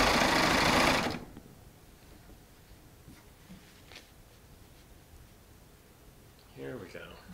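A Baby Lock Triumph serger running a 4-thread stitch on Shannon Cuddle fabric gives one loud, fast mechanical whir at the start, then stops; a voice speaks briefly near the end.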